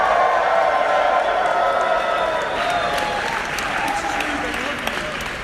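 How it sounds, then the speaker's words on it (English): An audience at a live event claps steadily for several seconds, a dense, loud wash of applause with some cheering mixed in. "A lot of people clapping at me."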